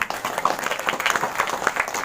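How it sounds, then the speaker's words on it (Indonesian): Audience applause at a talk on the local history of Randugunting in Tegal, a couple of seconds of steady, dense clapping from a gathered crowd. "Tepuk tangan"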